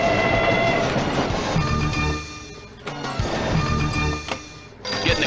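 A loud electronic train effect from the Who Dunnit pinball machine rumbles and clatters with horn-like tones, pulsing in bursts with brief dips and clunks from the table.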